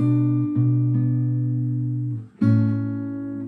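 Fingerstyle acoustic guitar phrase from a song, with sustained plucked notes ringing together, a few new notes added, a brief gap, then a fresh chord struck; close and clear, no talking.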